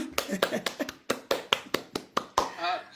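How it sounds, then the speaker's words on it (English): A small audience claps hands to welcome a doctor to speak at an online session. The claps come as a series of sharp, separate hits, close and moderately loud, with no talk over them. "Let us clap hands for him."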